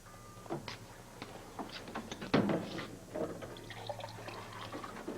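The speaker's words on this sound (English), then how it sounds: "Would you give me a glass of water, please?" Water pours into a drinking glass indoors, heard as faint, brief trickling and dripping against quiet room noise, with one louder splash near the middle.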